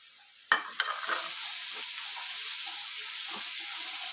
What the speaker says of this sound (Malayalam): പച്ചമണം മാറുന്നത് വരെ മൂപ്പിക്കുക.